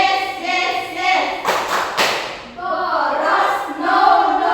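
Children in a classroom perform a rhythmic clapping chant, a burst of several sharp claps in the middle framed by chanting voices of the class.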